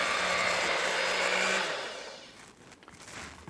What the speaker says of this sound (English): But today I'm going to use the hand mixer.